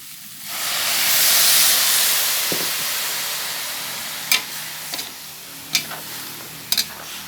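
Ginataang pakak is sautéed in a pan, a loud hissing sizzle swelling up at first then settling, with several sharp scrapes and clacks of a utensil stirring near the end.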